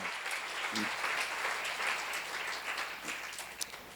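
Steady applause from a crowd at a church Bible seminar, many hands clapping continuously at an even level from start to finish.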